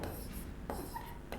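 Chalk or marker scratches in short strokes on a board during a Hindi-medium maths lecture on sets, quiet and close with brief pauses between marks.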